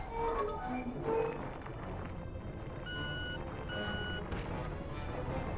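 A vehicle in the video game Sly 3 sounds its reversing alarm, a few evenly spaced electronic beeps at moderate volume over game engine rumble and background effects.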